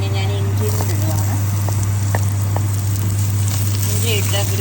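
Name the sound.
ginger sizzling in hot oil for Kerala fish curry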